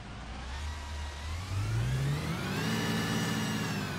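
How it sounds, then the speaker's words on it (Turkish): A Sanos S218 bus engine in the OMSI 2 bus simulator revs up from a low idle into a steady, rising mid-pitched drone and then holds, close and alone, with no voices. "aracın sesi güzel ben beğendim"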